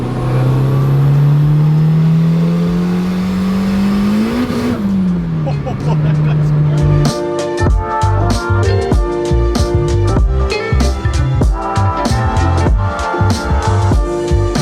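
A Honda car engine revs up loud and close to redline, pitch climbing steadily, then drops off as the sound gives way to loud music with a beat.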